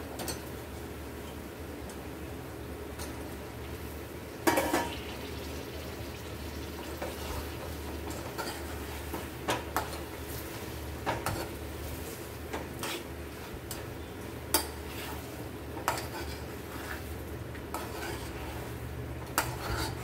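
Potatoes go into a pot of mutton curry, with scattered sharp clinks and knocks from the pot and utensils over a steady low cooking murmur, and no talking.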